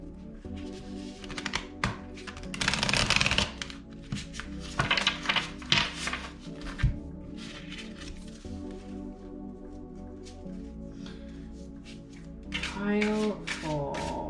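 Oriens Animal Tarot cards being shuffled by hand, with soft, irregular rustling and slapping bursts close by, mixed with short pauses and occasional faint talk.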